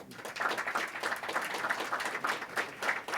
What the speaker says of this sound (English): there will be wild applause for him